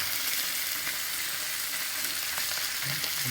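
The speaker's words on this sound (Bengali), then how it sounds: "এই দেখো মাছ ভাজতেছে" Fish frying in oil in a home kitchen, a dense, even hiss of sizzling that holds steady and fairly loud from start to finish with no voices.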